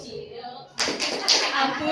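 After a brief stretch of quiet background talk, a group of teachers starts a short patterned rhythmic clap together, sharp bursts of clapping with a distinct accented beat partway through.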